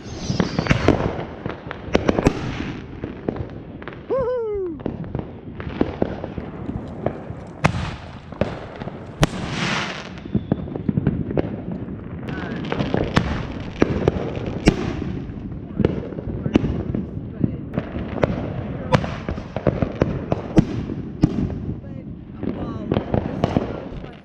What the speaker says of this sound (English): Here's a highlight reel of the neighborhood fireworks going off around us.